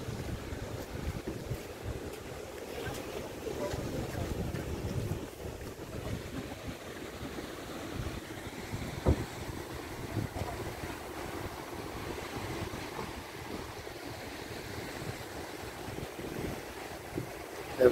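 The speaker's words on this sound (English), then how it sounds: "Just the wind is really very good." Wind and waves at Umm Al Quain beach in the UAE, a steady rumbling gusty wind buffeting the microphone over a soft continuous wash of surf, with no voices.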